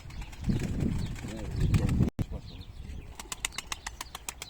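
Pigeons flap their wings in flight, a soft fluttering whir in uneven bursts, followed by a series of sharp, quick wingbeat claps after a brief gap.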